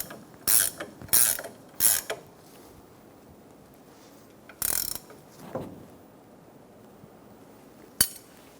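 A ratchet snugs down the outer tie rod nut on a 2014-2018 Chevrolet Silverado 1500 in three quick clicking bursts, followed by a lone longer burst, a faint clink and a final sharp click amid quiet.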